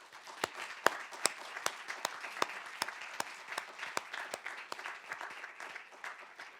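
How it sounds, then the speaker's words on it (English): An audience at a plenary roundtable session applauds its speakers, a soft distant patter of many hands with a few sharper individual claps, steady throughout. "I would like us to give a big round of applause to our speakers."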